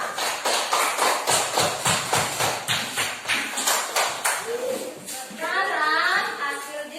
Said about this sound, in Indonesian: Berikan tepuk tangan untuk kelompok Alif,